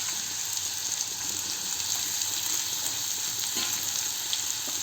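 Potatoes and cumin seeds fry in hot oil, a constant bright sizzle with occasional soft stirring sounds, heard alone and fairly close.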